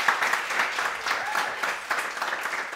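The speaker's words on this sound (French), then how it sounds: "toujours sur les applaudissements fournis du public" Studio audience on a television dating show applauding, a dense, lively wash of clapping that stays full and loud throughout with no speech on top.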